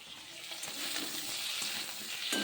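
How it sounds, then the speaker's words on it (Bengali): Potato and eggplant pieces fry in a pan with a soft, continuous sizzle and faint stirring that grows slightly louder toward the end, with no talking. "আলু বেগুনটা ভেজে নিচ্ছি একটু"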